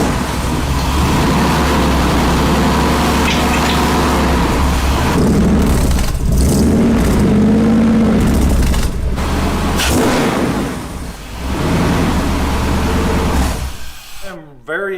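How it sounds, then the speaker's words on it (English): The engine of a large off-road wrecker truck runs with a deep, loud exhaust rumble close by, its pitch wavering slightly before it drops away near the end. "Okay, Trevor, we're about to listen to the exhaust."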